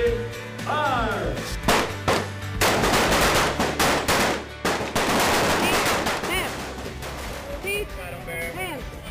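Rapid bursts of small-arms gunfire crack out at Air Force basic training, loud, close and overlapping, with shouted commands and voices mixed in among the volleys.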